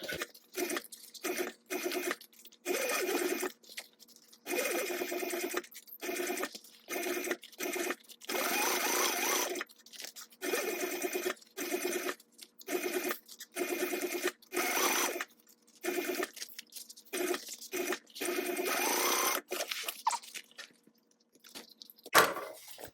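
A sewing machine stitches a mini backpack in repeated bursts of fast, even whirring, each run a few seconds long and separated by short pauses, loud and close with no talking.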